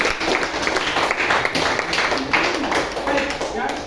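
A room of listeners at a talk breaks into clapping, a busy patter of hands with some chatter mixed in, moderately loud and close.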